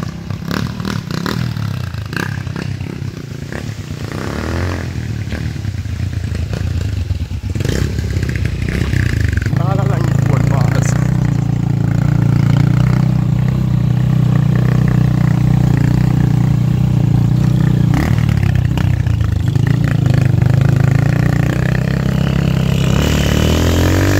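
A motorcycle rides along a road in Jamaica. Its loud, steady engine drone rises and settles with speed, and wind noise and a light road rattle run throughout.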